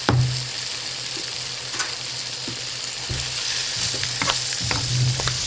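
Spinach and tomato sautéing in a hot pan for a frittata, a loud continuous sizzle with scattered clicks and scrapes of stirring throughout.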